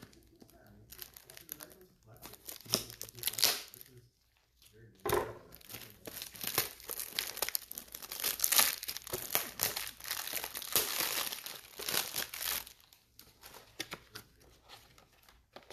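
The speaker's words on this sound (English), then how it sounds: "gotta rip open this top loader pack" A top loader pack of baseball cards being ripped open up close, with bursts of crinkling, tearing plastic and foil wrapper in quick irregular handling, fairly faint, with brief pauses between rustles.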